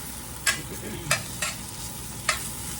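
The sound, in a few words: onions sautéing in a skillet while stirred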